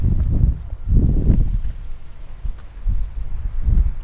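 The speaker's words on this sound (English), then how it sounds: "A little windy out here, so I apologize about that." Outdoor wind around a 2016 Audi A6 S Line gusts against the microphone in low rumbling bursts, close and loud, with no one talking.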